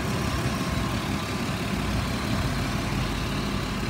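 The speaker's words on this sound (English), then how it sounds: "It idles smooth, revs up nice." A 2006 Ford Explorer XLT with an automatic transmission idles steadily, a low, even engine hum heard up close with no talk over it.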